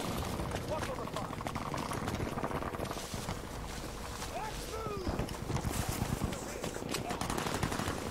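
Automatic gunfire in a shooter video game, likely a Gewehr 43 rifle among others, rattling in dense bursts over a noisy battle mix with talk through it.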